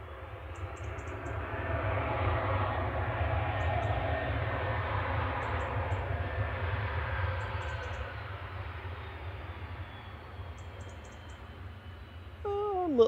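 An airliner lands at Manchester Airport with light reverse thrust, a steady broad jet roar with a low rumble that swells and then slowly fades over about thirteen seconds, heard alone with a brief sharp sound at the very end.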